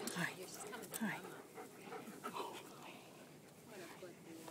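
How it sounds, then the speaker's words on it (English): A dog pants and whimpers in soft, uneven bursts close by, while people talk warmly over it throughout. "You're just a lovey-dovey dog."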